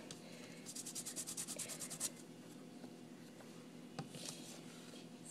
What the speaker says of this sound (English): I am going to rub this on the surface of my tag that I've got going here.